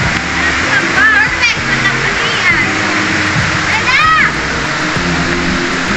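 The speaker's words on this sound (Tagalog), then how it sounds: "Batang naliligo." Children splash and bathe in a mossy river at Kawayan in San Jose del Monte, Bulacan, with steady rushing water throughout and excited children's voices and shrieks rising over the flow.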